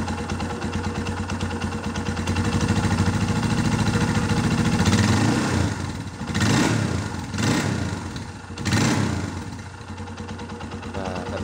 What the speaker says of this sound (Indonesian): apakah ketika RPM-nya tinggi ada suara aneh-aneh di mesin?